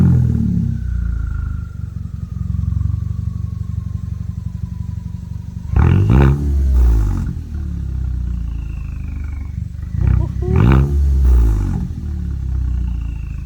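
A Volkswagen Jetta Mark 6 with small bolt-on exhaust mods idles with a low rumble, then revs sharply twice in loud bursts that fall back to idle.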